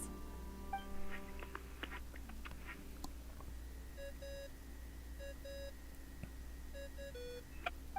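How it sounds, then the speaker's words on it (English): Phone ringtone in the video game Genshin Impact, a repeating electronic ring of short bright beeps in regular bursts, moderately loud over a soft ambient game backdrop with faint chimes. "I really hate that ringing tone."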